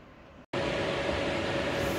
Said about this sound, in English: You'll have to excuse the background noise from the fan.